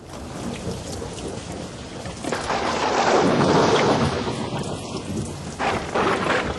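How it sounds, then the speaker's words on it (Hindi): Heavy rain pours steadily as a thunderstorm rumbles, with thunder swelling loudly in the middle, a dense close wash of rainfall throughout, used as a sound effect in a Hindi radio story. "वर्षा से सब कुछ जलमग्न हो रहा था"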